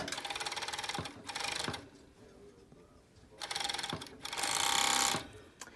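An overlock machine stitches colourful patchwork strips together in bursts, its fast, even mechanical whirring starting and stopping close by, with quiet pauses between runs.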